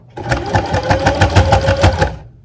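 A sewing machine runs a back stitch through fabric, its needle thumping in a fast, even rhythm of about a dozen strokes, close and loud, starting and stopping cleanly.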